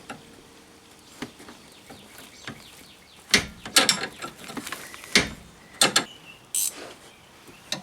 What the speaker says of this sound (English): So what you'll have to do is hold that with the wrench.